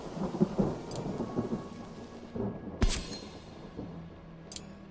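Thunderstorm with rain in the video game Mind Over Magic: steady rainfall hisses throughout, a sharp, loud thunder crack lands near the middle, and softer rumbles come before and after.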